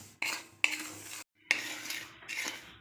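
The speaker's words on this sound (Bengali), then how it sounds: "এবার আমি এই সুজিটা ভেজে নেব।" A spoon scrapes and stirs semolina being dry-roasted in a pan, giving four short bursts of scraping and clinking separated by brief pauses, close and fairly quiet with no one talking.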